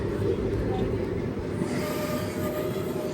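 Repalle Express train running on the tracks, a loud continuous rumble of wheels and carriages with a faint squeal, steady throughout.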